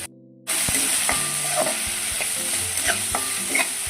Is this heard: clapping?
no